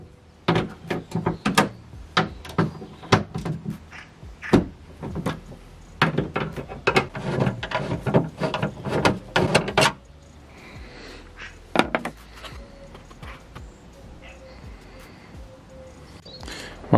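Torx T45 bolts being undone on a Skoda Fabia boot: a rapid series of sharp metallic clicks and ratcheting taps for about ten seconds, then quieter scattered handling noises and a few faint clinks.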